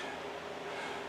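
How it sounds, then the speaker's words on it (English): Steady broadband whooshing hum of a running fan, constant and unbroken, with no speech or other sounds. "you can hear the electric fan I have going in the background"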